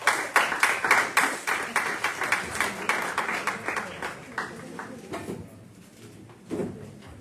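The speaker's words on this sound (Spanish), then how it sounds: "Un aplauso para la doctora." Audience applause for a speaker at a Spanish-language literature festival, a modest group clapping in distinct rhythmic bursts that gradually thin and fade, with a short louder sound near the end.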